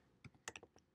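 Quick typing on a computer keyboard: a handful of light, close key clicks in an uneven burst over a quiet background.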